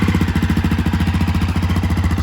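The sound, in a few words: Honda CRF250F dirt bike engine starting, stock exhaust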